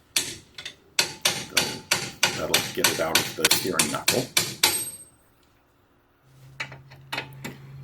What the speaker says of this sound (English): now hammering a pickle fork into the side of the ball joint